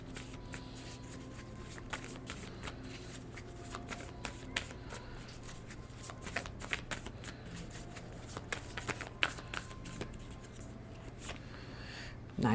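Tarot cards shuffled steadily by hand in a quiet room, a dense run of soft riffling flutters and light slaps going on alone for the whole stretch, with a low steady hum underneath.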